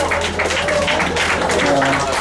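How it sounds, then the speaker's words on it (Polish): A crowd at a live punk concert applauds and cheers, a continuous roar of clapping mixed with shouting voices and faint ringing tones. "Brawa dla Jarek i"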